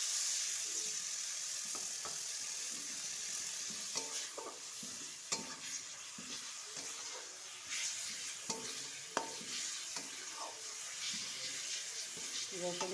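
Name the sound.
garlic paste frying in ghee for doi katla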